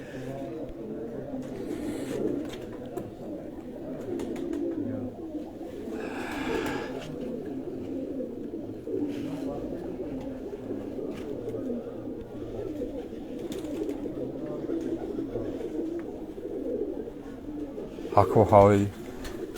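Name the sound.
pigeons cooing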